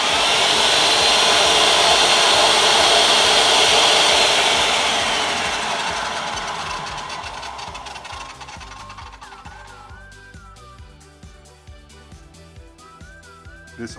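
A table saw powers up with a loud steady whir that gradually winds down over the span, leaving a quieter mechanical hum with faint clicks toward the end; no one speaks.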